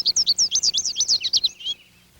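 Goldfinch giving a rapid series of about ten high, bright, twittering chirps, close and clear, ending in a short trailing note with no other sounds.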